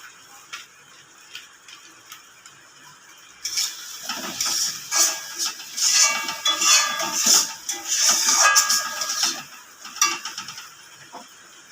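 Spice paste with turmeric being fried and stirred in a pan over a very low flame for a prawn malai curry; after a quiet start, steady scraping and clicking stirring with a bright sizzling hiss runs for the rest of the clip.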